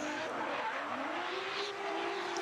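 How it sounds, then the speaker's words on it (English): A drift car spins its tires at Kern County Raceway during a competition run, giving a steady, loud roar of engine and tire noise with a rising tone, heard from a distance. "I think she was expecting initiation there, spun the tires"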